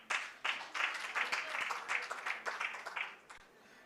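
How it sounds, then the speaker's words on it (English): An indoor audience claps for a presentation at a county executive committee quarterly review meeting, with a few seconds of dense, uneven clapping that swells and fades. "I think we need a better applause"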